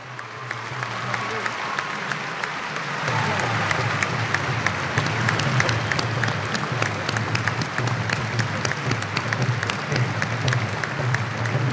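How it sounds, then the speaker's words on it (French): Sustained applause from a large crowd at the FESPACO 2025 opening ceremony, dense and steady and swelling after a few seconds, with a few crowd voices mixed in. "Je vous invite donc à vous tenir debout pour les magnifier par des applaudissements nourris"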